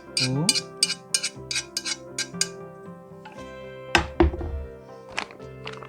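Cooked soybean ramen noodles, rinsed, tipped into a bowl, giving a run of soft thunks and light clinks of the dish, with a couple of heavier knocks near the end; close and moderately quiet.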